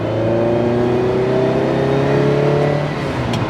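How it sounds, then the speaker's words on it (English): A Ferrari 308 engine revving in a workshop on a wet day, a loud, close, sustained mechanical drone whose pitch climbs steadily as the revs rise, with no talking over it. "I'll now start to bring the revs up a little bit."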